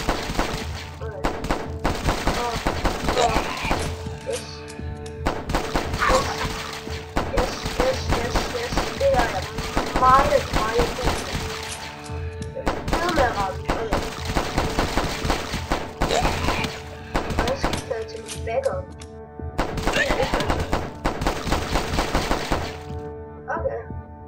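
Video-game gunfire rattles in repeated bursts of sharp shots across the whole stretch, loud and close, with pauses between volleys and a voice talking over parts of it.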